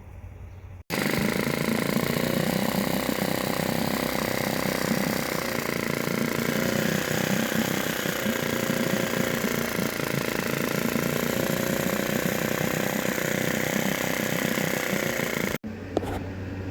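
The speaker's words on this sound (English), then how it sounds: "in that last video you heard the engine running, and it was doing okay" Nissan 6hp four-stroke outboard engine runs at a rough idle, a loud, continuous mechanical drone with a steady rattle that starts abruptly and cuts off near the end.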